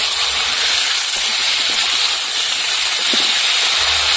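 Thick-cut new potatoes hit hot oil with fried onion, garlic and tomato, giving a loud, steady, close sizzle that fills the whole moment without any talking.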